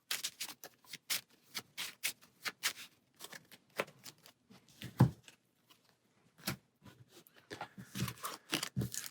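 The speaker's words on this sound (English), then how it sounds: "shuffle her deck, and then put her on top" A deck of cards shuffled by hand during a solo Marvel United board game: a run of crisp, rapid riffling and flicking bursts, close and distinct, with short gaps between them.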